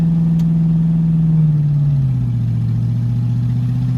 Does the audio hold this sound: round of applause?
no